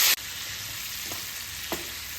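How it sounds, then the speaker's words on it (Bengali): Diced potato and pumpkin sizzle in a pan after cumin powder, turmeric powder and a splash of water go in, a steady hiss with a couple of soft stirring knocks, following a brief sharp burst at the start. "এখন আমি এর মধ্যে একটুখানি জিরে গুঁড়ো দিলাম, হলুদের গুঁড়ো, সামান্য একটু জল দিয়ে এটাকে কষিয়ে নেব।"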